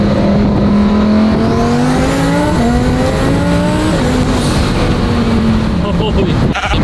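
A twin turbo Lamborghini Huracan Performante built for over 2,000 horsepower accelerates hard from a 40 mph roll, its loud engine note climbing through rising pitch sweeps with quick drops at each upshift, filling the cabin without pause.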